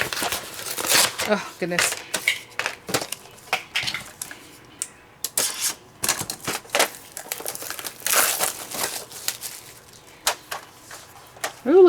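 Crinkling and rustling of packaging with clicky handling sounds, intermittent bursts close by, while a person talks briefly.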